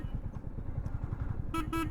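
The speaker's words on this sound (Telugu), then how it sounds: "హారన్ అయితే చేంజ్ అయింది, టిపికల్ రాయల్ ఎన్ఫీల్డ్ హారన్ కాదు" Two short horn toots from a Royal Enfield Meteor 350, a changed horn rather than the usual one, sound near the end over the low idling thump of the motorcycle's engine.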